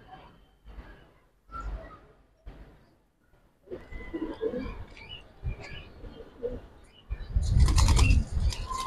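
Silver and bagha pigeons in a loft coo in short bursts, with flurries of wing flapping; the sound builds to a louder, dense flapping near the end, close to the listener.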